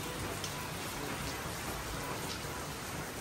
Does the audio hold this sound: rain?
yes